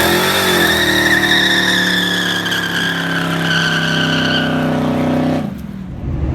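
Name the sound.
street truck doing a burnout after motor swap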